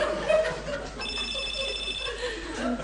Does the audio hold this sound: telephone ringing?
yes